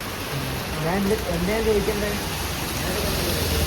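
Steady hiss of rain falling, with a person talking under it close by.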